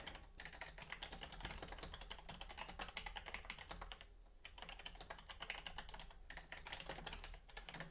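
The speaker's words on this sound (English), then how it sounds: "I'm going to type it in the chat." Fast, continuous typing on a computer keyboard: dense clicking keystrokes in steady bursts with a brief pause midway, fairly quiet and close, no talk.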